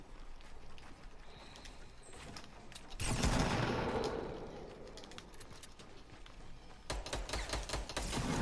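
Gunfire in a Fortnite squads match, rapid clattering shots in clusters with a louder burst of blasts partway through, set against game ambience and occasional quiet speech.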